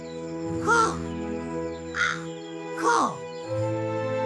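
A crow caws several times, harsh separate calls spaced about a second apart over a sustained musical background, in an animated bird story.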